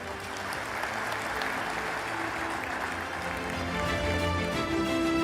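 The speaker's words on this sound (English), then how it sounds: "Please join me in giving them a round of applause." Audience applause at the opening ceremony of a GCF annual meeting, a steady wash of many hands clapping throughout, moderately loud and sustained with no talk over it.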